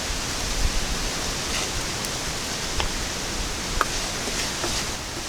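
Dried chillies, cumin and coriander seeds dry-roast in a pan in a village kitchen, making a steady soft hiss with occasional faint crackles and pops, alone without talk.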